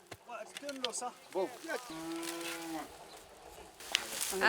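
Cows mooing on a rural village farm in Bhutan while cow dung is collected, a long low close moo after shorter bovine calls, with people talking and rustling around it.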